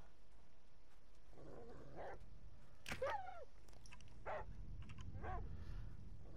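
A dog in the video game Die Young at a military post, giving a few scattered short yips and whimpering barks over a low ambient hum, moderately close.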